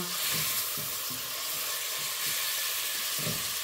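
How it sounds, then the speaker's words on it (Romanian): Chopped onion sizzles and fries in a pot on the stove while being stirred, a steady soft hiss with occasional scraping stir sounds, quiet and close with no voices. "Și acum călim ceapa."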